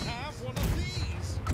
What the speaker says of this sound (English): Right side cannons, fire when ready.